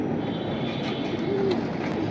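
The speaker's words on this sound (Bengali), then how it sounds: "ভাই তাহলে দুটো কবুতর ধরে দেখান তো" Pigeons coo softly while being held in hand at a pigeon sale, a low warbling call heard over steady background rumble.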